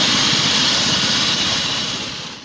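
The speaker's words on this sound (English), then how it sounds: "a police chopper was scrambled from Wilson Airport to Voi airstrip to pick him up" A police helicopter flies close and loud, its engine roaring in a constant broad rush that fades slightly toward the end.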